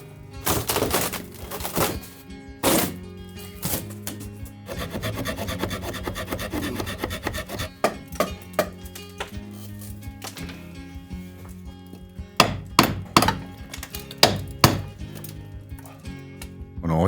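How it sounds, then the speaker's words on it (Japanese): A wooden closet is pried and broken apart during a home renovation: loud cracks and knocks come in irregular bursts between stretches of rasping and scraping. "この押し入れを砕いてて"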